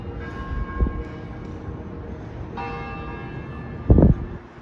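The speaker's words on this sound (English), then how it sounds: "Bell tower there." A church bell in a downtown Richmond, Virginia bell tower near Capitol Square sounds two distinct struck tolls, the first softer and the second louder, with lingering ringing tones and quiet street ambience between.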